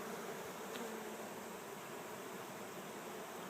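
Honeybees swarm around an open beehive as a frame is lifted out, giving a steady, dense buzzing hum that fills the space at an even level throughout.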